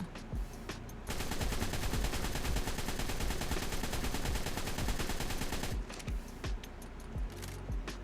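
Assault rifle firing in ARK: Survival Evolved, a long sustained automatic burst of rapid, loud, evenly spaced shots, followed by a few scattered single rounds.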